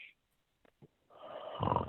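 A person snores in a long, rough, swelling breath that grows louder toward the end, after brief near-silence and a few small clicks.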